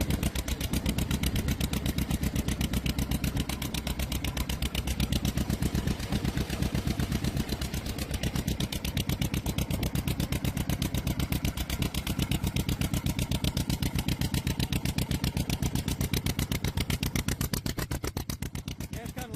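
A 1937 John Deere L tractor engine running on its magneto, a loud, steady, rapid putting chug with even firing pulses throughout, close by.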